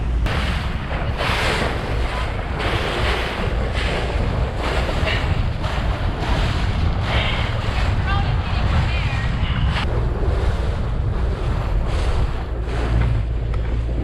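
Steady low engine rumble and rushing water from a boat trolling at 6 knots at sea off Guam, with wind buffeting the microphone throughout.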